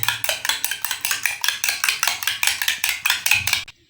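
Egg whites being beaten hard in a bowl, a rapid steady rhythm of sharp clinking whisk or fork strokes against the sides, loud and close, with no talking.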